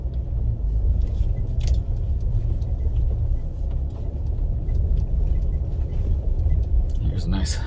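Interior of a 2022 Nissan Frontier pickup crawling an off-road course, a steady low engine rumble and cabin drone with occasional rattles and knocks throughout, ending with a brief clatter.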